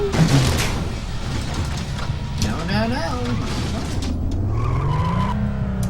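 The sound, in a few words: motorcycle crash and tire skid in Road Rash 64 video game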